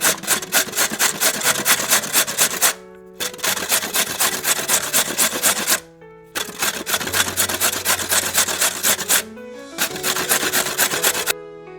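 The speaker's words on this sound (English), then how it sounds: "Now I have taken one grater and I am going to grate all the carrot." Peeled carrot pieces are rubbed against a hand grater in steady rapid scraping strokes, loud and close, with three brief pauses between runs and no talk.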